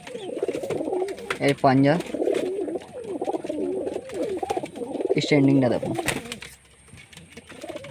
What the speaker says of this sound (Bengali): এটা হচ্ছে মুর্শিদাবাদ লাইনের পায়রা